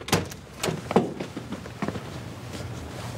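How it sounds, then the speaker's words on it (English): A door on a television set opens with several thuds and clunks, close and moderately loud. A few sharp knocks come early, then a quieter stretch with faint background noise. "Door's open again."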